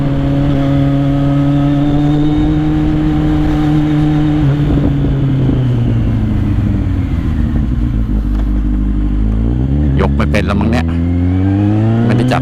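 A Kawasaki Z800 motorcycle engine drones steadily while riding on the road, its pitch dipping then climbing in sharp revving bursts near the end as the rider tries to lift the front wheel.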